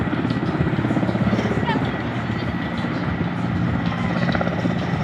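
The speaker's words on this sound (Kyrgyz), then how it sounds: "this helicopter will participate" A helicopter at an airsoft tactical game during a season-opening event gives a loud, steady rotor and engine thrum that holds for the whole stretch with little change.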